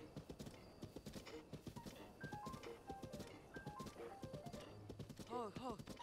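Horse hooves clip-clop in a steady trot in The Legend of Zelda: Breath of the Wild, mid-level and continuous under chiming game music, with a brief whinny-like sound near the end.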